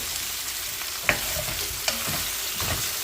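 Chicken sizzles steadily in a hot pan while a utensil stirs, with a few sharp scraping clinks against the pan.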